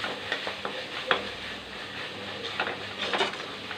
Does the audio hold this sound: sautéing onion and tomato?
yes